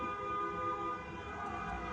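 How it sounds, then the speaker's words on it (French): Sustained car horn tones blare faintly from a distance, overlapping in a steady drawn-out honk against background hum, around a Málaga vs Almería cup football match in Spain. "Ça fait que klaxonner."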